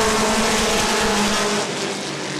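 Mini stock race cars roar around a speedway during a feature race, a dense, loud blend of engines at speed with a steady droning pitch that eases off slightly near the end.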